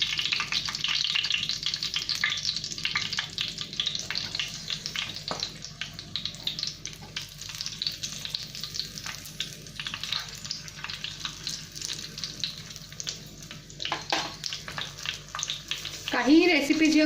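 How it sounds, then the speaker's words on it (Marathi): Green chillies stuffed with fresh coconut fry slowly in a pan, giving a steady, close sizzle that crackles on without a break for the whole stretch. "आणि आता आपल्याला याच्यात मिरच्या ठेवायच्या सावकाश."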